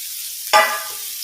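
Onions go into hot oil on a tawa and burst into a sudden sizzle that settles into a steady, close hiss of frying.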